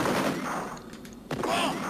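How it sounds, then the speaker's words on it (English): Dense, continuous gunfire from a machine gun and a double-barrel shotgun in a two-player Amiga blood-and-gore game, a steady noisy barrage with a sharper burst near the end. "I've actually got a high-powered machine gun, and my opponent has got a high-powered double-barrel shotgun"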